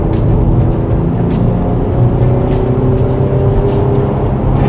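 A V6 Hyundai Genesis Coupe accelerates through the mid-RPM range, its engine drone loud and steady from inside the car with a rising exhaust note and no pauses.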